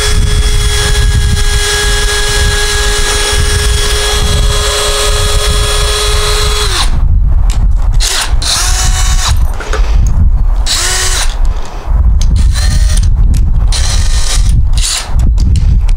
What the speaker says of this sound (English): And now we'll drill just a little bit further in.